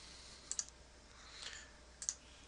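Computer mouse clicks while importing a file in IBM MIB Manager: two quick double-clicks, close and crisp, separated by quiet room tone.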